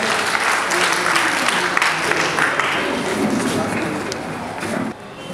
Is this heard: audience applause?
yes